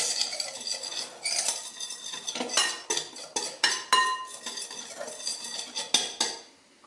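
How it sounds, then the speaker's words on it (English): A spoon stirs sugar and cinnamon together in a mixing bowl for an apple cake topping. It gives a rapid series of close scraping and clinking strokes against the bowl, with no voices. "We put in the rest of our sugar and we put in a teaspoon of cinnamon. Like that. Give it a mix."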